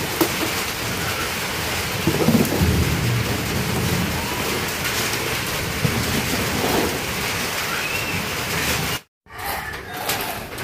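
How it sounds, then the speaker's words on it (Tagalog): Heavy rain pours steadily with low rolls of thunder mixed in, a constant dense wash of noise that briefly cuts out near the end. "Palipasan nyo muna yung ulan."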